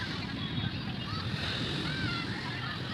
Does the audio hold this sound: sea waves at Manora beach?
yes